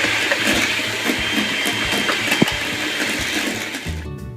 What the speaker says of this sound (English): I'm whipping 4 egg whites